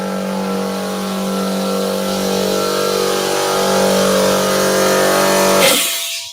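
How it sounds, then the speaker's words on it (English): An air compressor runs steadily in a shed, a loud sustained motor hum with a strong low tone and layered harmonics that holds for several seconds before cutting off and fading away. "Cue the compressor."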